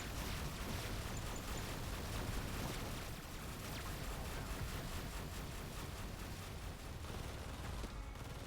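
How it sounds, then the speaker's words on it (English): A grenade blast in the space shooter Earth from Another Sun, heard as a dense wash of explosion and gunfire noise that stays fairly faint and steady throughout. "Go ahead and chuck a grenade out there."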